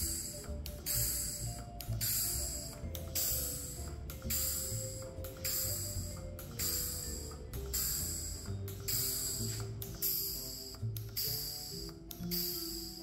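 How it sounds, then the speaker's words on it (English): A valve-controlled pulse tube cryocooler runs with a loud, regular rhythmic hissing pulse of air cycling through its valves about once per second, over a steady mechanical hum and rattle. "Let's set the output regulator, dial in the valve timing, and fire this thing up."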